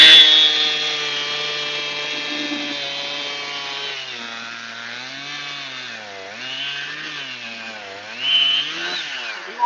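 A chainsaw cuts into an oak log, its engine whining steadily at first, then bogging down and wavering in pitch as the blade bites into the wood, running close and loud throughout.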